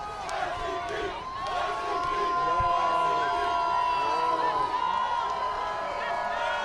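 A crowd of basketball fans in Toronto cheers and shouts in a sustained roar with whoops rising over it, somewhat distant and continuous, with voices talking nearby.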